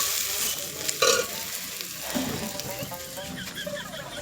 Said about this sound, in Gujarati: કાંદા મોળ્યા તેલ ડાળ્યો અને આ વઘારી